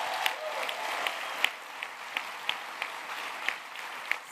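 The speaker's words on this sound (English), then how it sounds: "A round of applause." Applause from an audience at a community impact hearing hosted by SUNY, steady moderate clapping with a few sharper individual claps standing out, fairly distant and continuous throughout.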